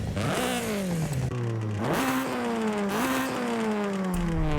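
Honda Civic Type R with a swapped 1.6-liter engine in Forza Horizon 5 revs hard, pitch climbing and dropping through repeated throttle blips and gear changes, loud and close with no talk.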